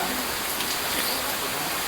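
Steady heavy rain pours down, a dense continuous hiss of drops beating on surfaces, close and even with no pauses and no voices.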